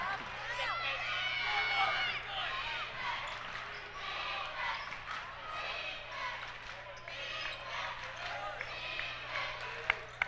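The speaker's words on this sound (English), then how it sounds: "Taylor crowd really starting to get into it now." A basketball game crowd at a 2004 high school boys' game between Indian Hill and Taylor roars and cheers steadily in a gym, with ball bounces and sneaker noise mixed in and a commentator talking over it.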